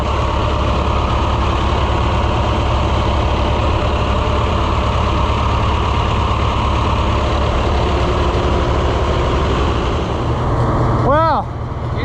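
Oliver 1250 tractor engine, just restarted after fuel system cleaning, idles steadily and loudly throughout with a deep low rumble, a brief pitch sweep near the end.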